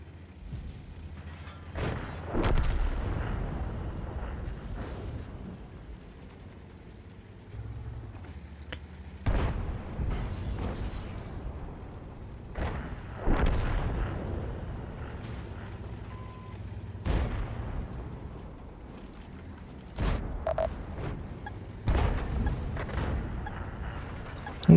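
Tank cannon fire in a tank video game, with the Somua named among the tanks played: a series of deep, booming shots at irregular intervals of a few seconds, each with a rumbling tail, over low mechanical engine hum.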